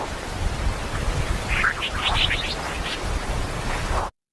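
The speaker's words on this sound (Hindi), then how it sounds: "यह उन डिस्पोज बीप की आवाज है जो सौर तूफानों के जरिए सफर करती है" Sonified solar storm data produces dispersive beeps from the sun. A quick burst of faint, sweeping chirps rises briefly out of a steady hiss of noise, and then everything goes abruptly silent.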